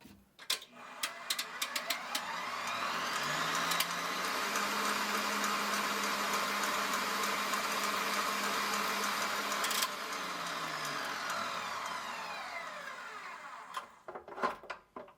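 A KitchenAid 5.5-quart bowl-lift stand mixer whipping cream, its motor ramping up into a steady loud whir that holds and then winds down, with clicks before and after.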